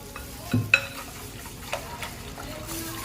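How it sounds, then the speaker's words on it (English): A whisk stirs Jello powder into liquid in a bowl, making soft swishing with a few sharp knocks of the whisk against the bowl's side, close up and fairly quiet. "it says whisk until the Jello powder has completely dissolved"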